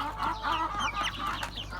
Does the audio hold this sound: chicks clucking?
yes